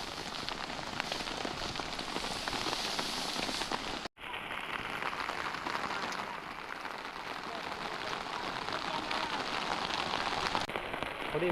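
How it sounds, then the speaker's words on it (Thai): Steady rain pours down on a forest campsite in a dense, even hiss, with a momentary cut near the start before the downpour continues unbroken. "ฝนตก"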